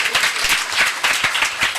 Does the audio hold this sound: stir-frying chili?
no